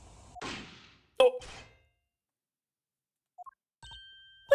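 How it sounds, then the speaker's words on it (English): A single muffled gunshot-like thud on a bug recording in the Ace Attorney Investigations 2 video game, sharp and brief after a stretch of quiet, followed by electronic beeps and a faint tone. "The noise! That was a gunshot."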